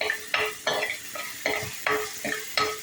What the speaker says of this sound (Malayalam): ഇഞ്ചിയും വെളുത്തുള്ളി നല്ലപോലെ ചെറുതായിട്ടൊന്ന് വഴറ്റിയെടുക്കാം